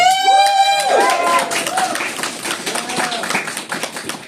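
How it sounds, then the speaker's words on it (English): Audience applause and cheering at the Central Alberta FanFest cosplay contest, a dense burst of clapping with whoops that stays loud throughout while a voice speaks over it at the start. "give me a hand of applause!"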